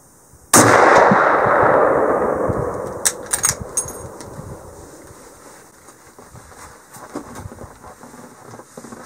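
A loud rifle shot fired outdoors in the Yukon in December with 275 grain Woodleigh bonded bullets rings out sharply and rolls away in a long echo, followed by softer clicks and handling noises under wind.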